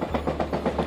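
A train in Alaska runs on rails with a steady rumble and a rhythmic clickety-clack of wheels, heard close and fairly loud.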